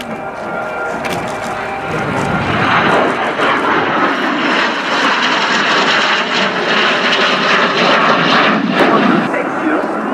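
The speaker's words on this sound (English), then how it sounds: "Soloturk is simulating the slowest roll of a military jet aircraft with precise control" A Turkish Soloturk military jet roars steadily overhead while performing a slow roll at the RAF Fairford airshow. The loud, continuous engine rush swells after the opening seconds and holds for the rest of the pass.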